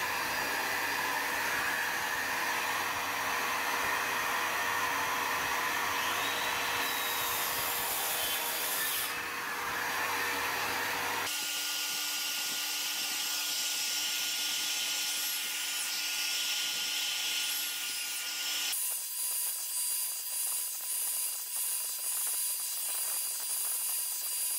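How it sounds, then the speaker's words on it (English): Circular saw making a series of half-depth cuts across a wooden board during garage barrier framing, a loud continuous high whine and buzz of the spinning blade chewing through wood, the pitch shifting as each cut starts and ends. "Now I'm going to set the depth of my saw to about halfway through the board."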